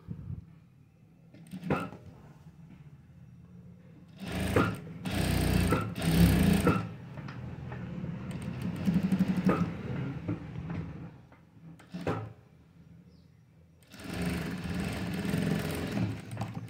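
A sewing machine stitches a blouse with a princess cut in short motor runs, each a steady near whirring burst separated by pauses and small clicks of handling the cloth.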